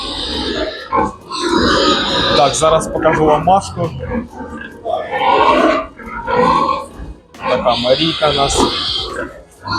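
Piglets grunt and squeal close by in repeated bursts on a village farm while a person talks over them.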